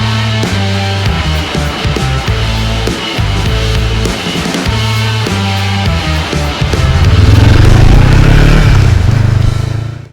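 Honda CB500X motorcycle engine while riding on a mountain trail, a steady loud drone with rhythmic gear and throttle changes and a strong rise in low rumble near the end.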